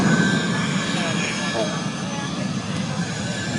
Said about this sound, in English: And you have the jet truck and the jet car going onto the runway now.